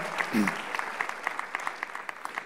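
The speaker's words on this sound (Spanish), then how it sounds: "Un aplauso ahí para nuestro hermano." Brief audience applause at a personal development summit: a short voice blip, then scattered, moderately loud clapping from a small crowd that thins out over a couple of seconds.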